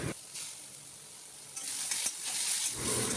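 Onion, tomato and chili with ginger-garlic paste being stir-fried in a home kitchen: a soft, hissing sizzle with bursts of louder scraping and frying as the mixture is turned, no talk.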